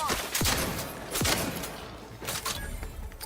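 Shotgun blasts and combat effects in The Outer Worlds 2 on a hard difficulty, two sharp booming shots in quick succession followed by fainter rattling, loud and up front.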